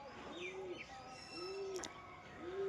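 Pigeons coo softly at a distance, with three low rolling coos spaced about a second apart over a faint outdoor background and a brief chirp from another bird.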